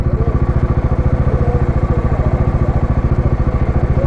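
A group of motorcycles including a Dominar, KTM RC390, Duke 390, Yamaha R15 and MT15 idling close by, a loud steady rapid engine throb without talk.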